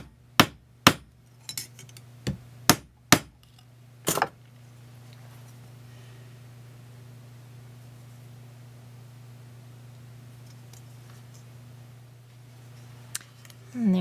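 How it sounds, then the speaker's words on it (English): A hammer strikes a tube rivet several times in quick, sharp blows to flare it, loud and close, followed by a long quiet stretch with a faint hum and a last knock near the end. "I can come back with the back side of the hammer"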